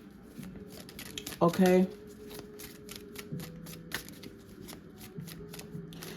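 A deck of cards being split and riffle-shuffled, a quick burst of fluttering card snaps lasting about half a second, close and fairly loud against quiet room tone, with a voice speaking briefly.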